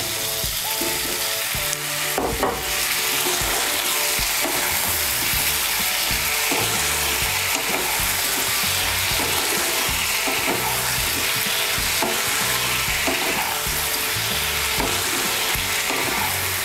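Cut okra frying in a pan, a dense, loud, continuous sizzle with frequent spatula scrapes and knocks against the pan, and no speech.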